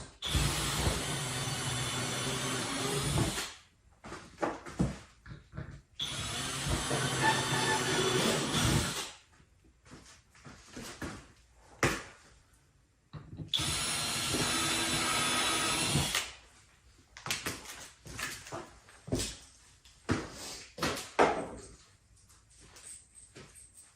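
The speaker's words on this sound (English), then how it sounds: "I'm drilling in at an angle to make it easier to install the screws." A power drill bores into a plastic septic riser in three loud, sustained whining bursts separated by quieter handling clicks and knocks, heard close up.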